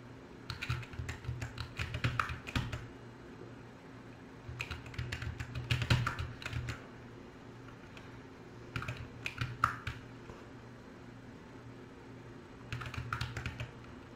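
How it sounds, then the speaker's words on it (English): Arrow keys on a computer keyboard tapped while playing Friday Night Funkin': quick clustered clicks in irregular bursts separated by short pauses, close and fairly quiet. "you're gonna press the arrows on your keyboard, and that's how it works"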